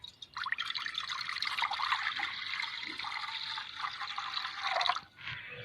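Water pours into a cooking pan before seer fish is added for boiling, a steady splashing stream lasting several seconds close by, then cutting off.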